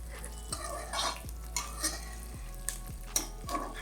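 Millet being lightly fried and stirred in a pan, with a soft sizzle under a low steady hum and a handful of spaced scraping stirs of a utensil against the pan, with no talk.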